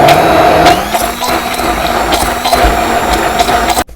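A loud blender whirs steadily close by, chopping mushrooms in a tall container, its motor grinding with rhythmic clattering pulses, stopping suddenly at the end.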